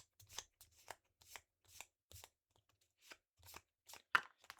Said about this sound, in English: I've already shuffled it, but we'll shuffle it again.